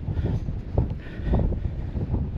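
Strong wind gusting across a hilltop in the Faroe Islands, a steady broadband roar buffeting the microphone, swelling and easing in a few loud gusts with no voices.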